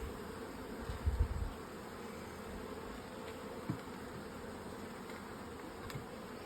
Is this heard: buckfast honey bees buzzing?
yes